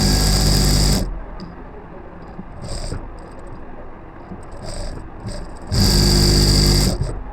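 Sewing machine stitching the edge of a trouser fly front, loud bursts of running motor at the start and end with quieter slow stitching, handling and clicks in between.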